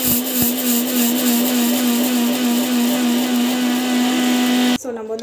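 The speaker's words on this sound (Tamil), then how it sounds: "இதையும் வந்து மிக்சியில் போட்டு அரைச்சிக்கலாம்" Mixer grinder grinding mustard seeds for avakaya pickle: a loud, steady motor whine with a constant pitch that holds for about five seconds, then stops abruptly. A voice talks afterwards.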